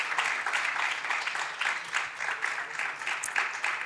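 A conference audience at a digital assets summit in Africa claps lightly, a fairly quiet, uneven patter of hands that continues throughout with a little speech mixed in.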